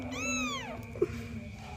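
A kitten gives one clear, close meow that bends upward and then falls away, followed by a short soft squeak against a quiet room.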